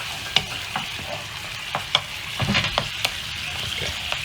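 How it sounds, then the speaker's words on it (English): Food sizzles and fries in oil in a pan while a utensil scrapes and stirs it in repeated close strokes, with no talking. "If you need extra oil, you can add in the end to help the frying."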